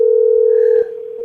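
A steady, loud telephone dial tone hums alone after the phone is hung up, then drops slightly in level partway through.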